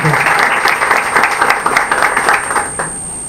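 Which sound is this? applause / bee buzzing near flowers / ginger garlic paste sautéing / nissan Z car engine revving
applause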